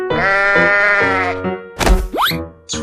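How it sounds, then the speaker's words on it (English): A cartoon sheep bleats loudly and close, a long wavering cry followed by short springy comic sound effects. "Sheep."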